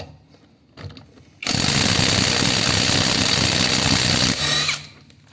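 PATUOPRO 500NM cordless impact wrench with a 17 mm socket loosening a car wheel nut. After a couple of faint clicks comes one loud, continuous hammering burst of about three seconds, which then winds down abruptly.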